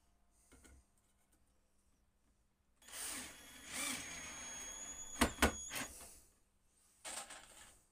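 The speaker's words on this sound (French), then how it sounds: "Donc là je vais mettre des vis" A power drill drives screws into a wooden worksite table in a few bursts of whirring, close and moderately loud, separated by near silence, with sharp knocks midway.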